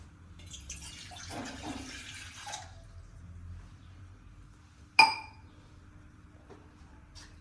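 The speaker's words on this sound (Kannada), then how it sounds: "1 ಕಪ್ ನೀರು ಹಾಕ್ತಾ ಇದ್ದೀನಿ." One cup of water poured into a pot on a gas stove for ragi mudde, a short, gentle splashing pour followed by quiet and a single sharp clink, with no voices.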